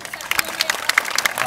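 Brief burst of crowd applause at an outdoor Christmas lights event in São José da Tapera, Alagoas, scattered quick claps over a lively background.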